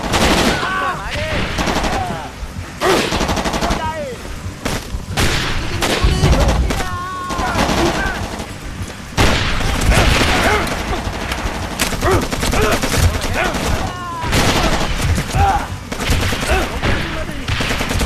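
Dense gunfire rattles almost without pause in the video game ShellShock 2, with rapid bursts and heavier booms filling the whole stretch, loud and close.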